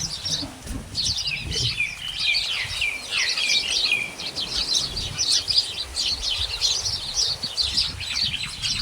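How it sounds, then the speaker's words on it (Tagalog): Many small birds chirp and twitter continuously in a dense, overlapping chorus in strong wind, with a low rumble of wind underneath. "Ang dami-daming ibon."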